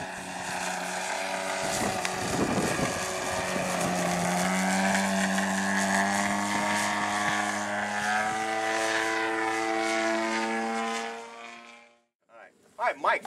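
A HobbyKing Yak 55 RC model airplane flying knife edge passes overhead with a loud buzzing propeller drone that shifts in pitch, cuts out near the end, and a voice talks over it.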